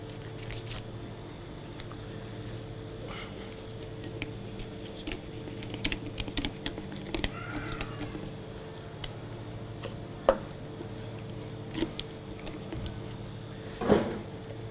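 A knife works through a carp being cleaned, giving sparse scattered clicks and scrapes over a steady low background hum, with no talking.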